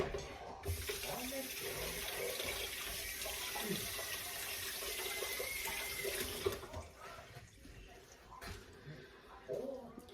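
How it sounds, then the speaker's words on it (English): Tap water runs steadily into a kitchen sink while hands are rinsed during apple dumpling baking, a constant close splashing stream that stops near the end, followed by faint handling noises. "I'm going to rinse my hands."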